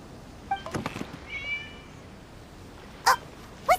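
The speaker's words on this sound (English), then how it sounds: "It was just a cat." A cat meows in Genshin Impact during the Irodori Festival, giving a couple of short, clear meows followed by two louder, sharper cries near the end, with quiet background between.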